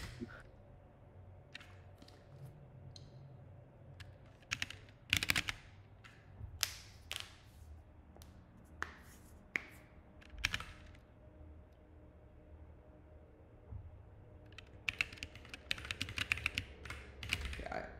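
Typing on a computer keyboard, close and clear, with sparse clicks early that grow into quicker bursts of keystrokes, some sharp taps standing out over a low steady hum.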